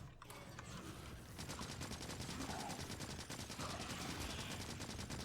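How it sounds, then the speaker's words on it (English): A gun turret in Factorio fires a rapid, steady stream of shots at enemies, its mechanical clatter fairly quiet and continuous after a brief pause at the start. "So the turret will defend me as I fight."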